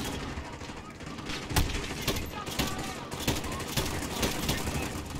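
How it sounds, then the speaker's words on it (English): Gunfire in the video game Call of Duty: Modern Warfare, a sustained rattle of rapid shots with several louder sharp reports over constant battle noise, and a player's voice talking over it. "Who's shooting here?"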